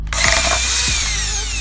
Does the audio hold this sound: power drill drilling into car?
yes